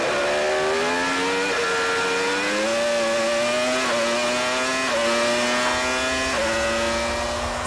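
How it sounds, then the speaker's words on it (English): 1996 Formula 1 cars accelerating away from the race start, loud screaming engines climbing in pitch through repeated gear changes, a dense continuous roar close by. "Villeneuve makes a near-perfect getaway to jump straight into the lead"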